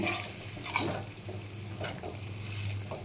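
Soya chunk curry bubbling on a high flame, a close, fairly quiet simmer with stirring sounds and a few soft utensil taps.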